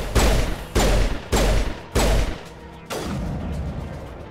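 Gunfire in Mass Effect 1 Legendary Edition: four sharp, loud shots in quick succession, each ringing briefly, then a longer rattling burst trailing off, close and without talk.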